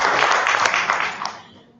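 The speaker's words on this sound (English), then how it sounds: "I think she deserves a round of applause." Audience applause at a formal opening ceremony, a short, dense round of clapping from a hall crowd that tapers off toward the end.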